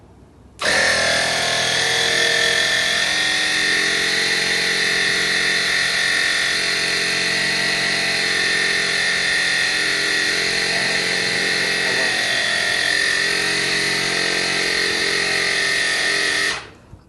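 Air compressor and wiper motor running together in an automatic tyre inflation system while the tyre rotates: a loud, steady mechanical whir and buzz that starts abruptly, holds constant for about sixteen seconds, then cuts off.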